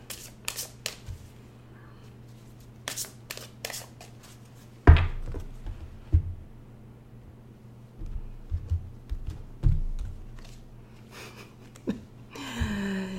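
A deck of tarot cards is shuffled in several short, crisp riffling bursts separated by quiet pauses, close to the microphone.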